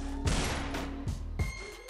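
Gunfire in the Free Fire mobile battle game, three or four sharp shots spaced irregularly over two seconds against a steady game background hum.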